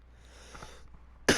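A single sharp, close cough bursts out after a quiet stretch with faint background noise.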